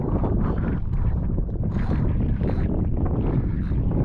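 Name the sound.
wind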